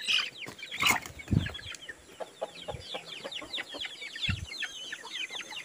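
Chickens cluck softly and repeatedly nearby, with a few sharper squawks and scattered rustling on the ground.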